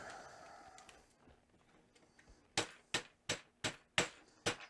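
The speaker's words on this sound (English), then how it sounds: "There's a rubber hammer. Let's try that." Rubber hammer tapping on a wire, six or seven sharp distinct knocks in a steady rhythm after a quieter stretch of faint rustling and handling, close and clear.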